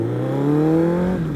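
A deep, throaty motorcycle engine of about 1000cc drones steadily, its pitch climbing slightly before dipping near the end, close and loud with no voices.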